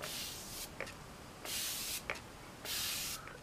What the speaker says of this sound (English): you're just literally holding down the spray the entire time.